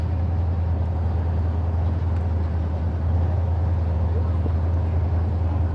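A 1971 Plymouth Cuda muscle car on a drag strip gives a steady, loud low engine rumble throughout, with outdoor racetrack noise around it.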